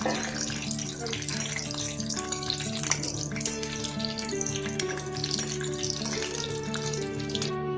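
Whole cashews fry in ghee in a pan over low heat, giving a continuous loud bubbling sizzle with steady crackle throughout, while background music plays along.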